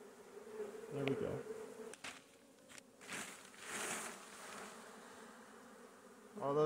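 A steady buzzing of many honeybees in flight close by during a hive inspection, with rustling and small knocks mixed in.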